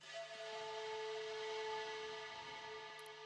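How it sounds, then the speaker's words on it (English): Atmospheric wind sample playing in FL Studio for a future house track: a sustained airy hiss with steady whistling tones layered over it, holding even and moderately loud throughout with no voices. "The next is the wind one here"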